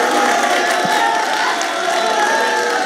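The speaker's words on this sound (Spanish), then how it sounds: "que todos aplaudan al ganador. Es decir, el primero, que aplaudid por el primero." A crowd at a Campus Party contest event applauds and cheers for the first contestant, a dense, steady roar of clapping and shouting that holds at full volume throughout.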